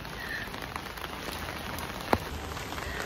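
Heavy rain pours down in a dense, even hiss of drops hitting surfaces, with a single sharp knock near the end.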